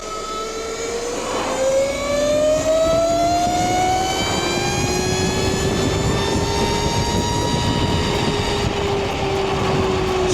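A 72V Burromax XRB electric dirt bike, rated around 13 kW, runs on a dyno under light throttle, giving a loud, continuous motor whine whose layered tones slowly climb in pitch, with no voices.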